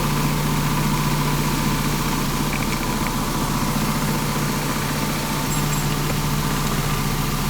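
Automatic vibratory barrel polishing machine with polishing stones, working on electric car parts, running as a loud, steady, continuous vibrating hum with a constant low drone throughout.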